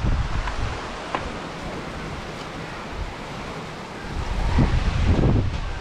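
Choppy sea waves and gusting wind in shallow water during spearfishing, a continuous rough wash with microphone buffeting that swells louder near the end.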